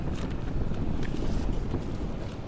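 Strong wind blows at a fishing harbour, a continuous loud rushing roar with gusty buffeting against the microphone and no clear speech.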